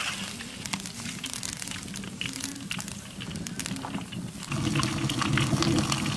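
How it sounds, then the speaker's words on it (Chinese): Pork slices deep-frying in hot oil for a homestyle pork and tofu dish, a steady bubbling sizzle close by that swells louder toward the end, with no one talking. "把肉片表皮炸干炸腻"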